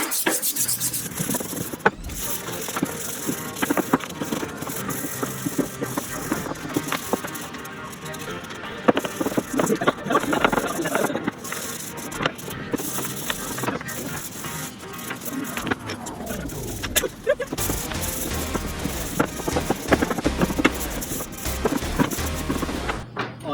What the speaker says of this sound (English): now we're going to go ahead and start sanding these